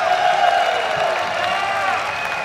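A crowd at a Pokémon VGC 2014 US Senior National Championship final cheers and claps continuously for about two seconds, moderately loud and even, with no single voice standing out.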